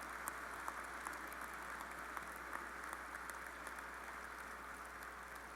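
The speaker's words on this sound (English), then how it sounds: "let's have a round of applause" Faint, distant applause from a crowd at a university graduate recognition ceremony, steady clapping throughout with a low hum beneath.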